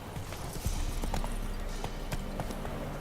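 Hooves of Geralt's horse Roach in The Witcher 3 clip-clop in a steady rhythm at moderate distance, a brief snort or whinny hinted amid the beats, with no talking over them.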